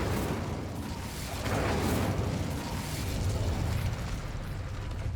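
An Incendio fire spell cast in Hogwarts Legacy, a sustained rumbling roar of flame and game ambience lasting several seconds, dense and steady without a sharp single blast.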